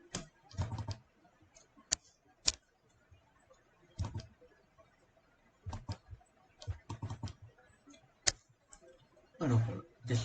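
Quiet clicks of a computer keyboard come in short bursts of typing separated by pauses, close and faint, with a brief low voice near the end.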